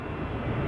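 Steady broadband drone of a fixed-wing aircraft in flight during an Operation IceBridge polar survey mission, a constant engine roar heard from inside the cabin, loud and even with no voices.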